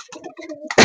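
A Giribaz pigeon gives a short, close, throaty coo lasting under a second, ending in a sudden louder burst of noise.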